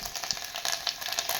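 Ground spice paste fries in hot oil with cumin, mustard seeds and curry leaves, a dense, close sizzle with bubbling crackles and stirring, no talk.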